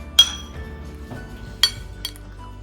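Glasses clink together in a toast at a Valentine's Day dinner, three sharp bright chimes spaced about a second apart over quiet background.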